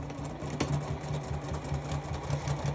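A home sewing machine stitches fabric on a desk with a steady, rapid mechanical whir and a rhythmic thumping pulse, close and continuous, run at a slowish pace.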